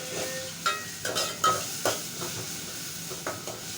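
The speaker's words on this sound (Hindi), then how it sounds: "ये लहसुन, अदरक लहसुन का पेस्ट मैं अभी बनाया था, वो डाल रही हूँ" Homemade ginger garlic paste, about one and a half teaspoons, sizzles in a hot pan with a few sharp bursts and utensil scrapes over a steady hiss.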